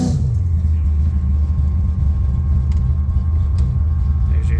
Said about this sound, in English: There's your speedometer working.